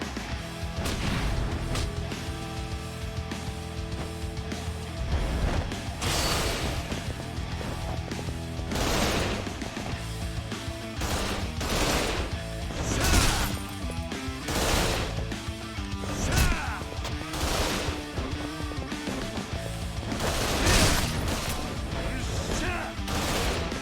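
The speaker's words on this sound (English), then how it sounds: "That's a shooting gun." Gunfire in the video game Yakuza 0, with repeated sharp shots and crashes punching through a dense, loud bed of game music and ambience.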